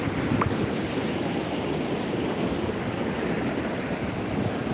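Continuous rushing floodwater roars steadily and broadly, like a fast flowing stream, with no pauses and no voices.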